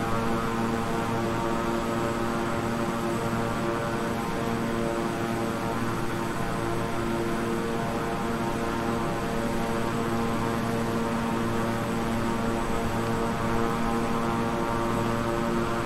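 A Beechcraft 350i King Air turboprop in Microsoft Flight Simulator, flying from Pensacola to Panama City, Florida, gives a steady, loud, droning propeller and engine hum with constant tonal whine and no talking.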